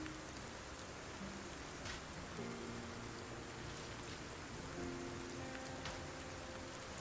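Steady rain falls in the video game Project Zomboid, a dense even hiss of drops on surfaces that runs unbroken, with faint tonal game sounds drifting underneath.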